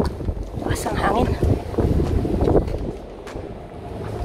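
Wind blowing across the open deck area of Sorrel Residence condominium, a steady rumbling gusty noise buffeting the microphone, with people talking over it.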